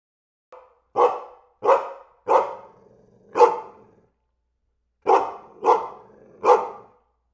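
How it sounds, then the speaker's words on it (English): A dog barks seven times, in a group of four and then a group of three after a short pause. The barks are sharp, close and loud. "This is a dog."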